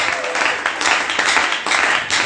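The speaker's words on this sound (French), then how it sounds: "acclame encore pour le roi" A church congregation applauds and cheers for the king during a Sunday service, a steady, loud wash of many hands clapping with voices mixed in, filling the room without a break.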